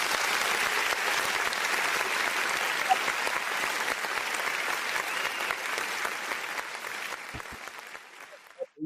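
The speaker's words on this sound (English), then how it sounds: "can we get another applause, man? I'm telling you, I fixed the applause button." A canned applause sound effect is triggered from a radio show button and plays as steady, dense clapping for about eight seconds before cutting off abruptly.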